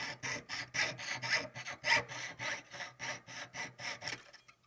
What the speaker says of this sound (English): The sheet you can move and then just have the saw blade follow along.